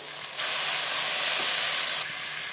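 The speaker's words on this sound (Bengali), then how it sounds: "অল্প জল দিয়ে মশলাটাকে কষাবো" Ginger-garlic paste with coriander, cumin and turmeric powders hits a hot pan with a splash of water, letting out a loud, steady steamy hiss that starts abruptly and cuts off after a couple of seconds.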